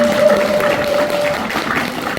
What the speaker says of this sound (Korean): 박수 시작할까요?